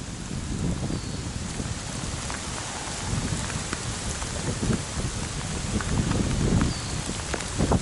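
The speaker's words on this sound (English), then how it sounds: "I'm not exactly sure the name of this brook" A small woodland brook near Huggins Lake runs downhill, giving a steady, close splashing and pattering rush of water with scattered sharper droplet sounds throughout.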